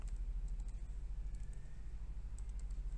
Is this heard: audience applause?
no